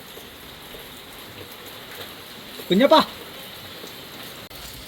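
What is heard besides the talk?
rain falling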